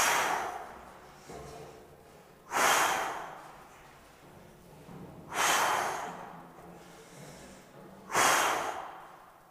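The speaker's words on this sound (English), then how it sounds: "So instead, do your pressure breathing." A person climbing stairs does forceful pressure breathing, with three strong, sharp exhalations spaced about three seconds apart and softer inhalations between them, close and clear with no talking.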